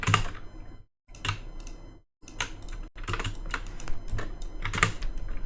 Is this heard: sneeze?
no